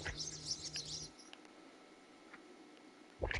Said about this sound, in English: Yeah, here's a bird.